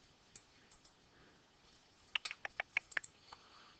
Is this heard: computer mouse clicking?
yes